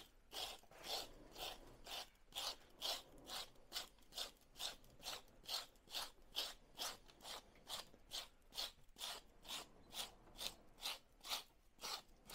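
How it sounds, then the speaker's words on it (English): A tool rubs rhythmically against the edges of a freshly cast concrete pot, about two dozen even, faint scraping strokes repeating steadily with no talking. "I take advantage of this time to ease these edges on the inside and the outside"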